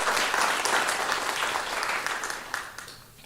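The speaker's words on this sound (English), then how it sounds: "Yes, one more round of applause for that." An audience at a keynote event claps warmly in a full, dense burst that gradually thins and tapers off toward the end.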